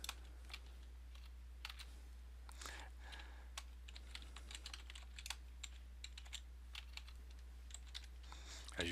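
Fingers tapping on a computer keyboard while entering text in a word processor, a quick irregular run of light clicks over a low steady hum.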